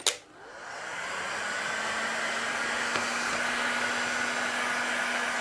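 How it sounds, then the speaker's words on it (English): A heat gun blows steadily and loudly on carbon vinyl wrap, kicking on with a sharp click and then holding a constant, close whooshing drone with a faint whine. "as you go along, you apply heat when necessary"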